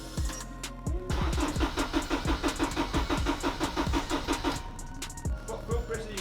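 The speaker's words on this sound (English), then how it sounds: "The vehicle's not starting because the wire that is in this harness" A K-swapped Honda DC2 engine cranks over rhythmically without firing, the starter's repeated chugging pulses going for several seconds before stopping, with faint talk nearby.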